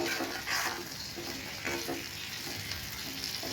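Potatoes fry in oil in a pan for paneer curry, a continuous close sizzle with scraping stirring strokes repeating through it and no talk.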